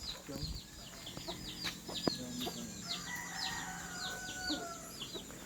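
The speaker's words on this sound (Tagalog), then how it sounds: "Mga manok ni Kuya Marlon." Chickens cluck repeatedly in a steady patter of short calls, with a faint murmur of voices and outdoor background noise.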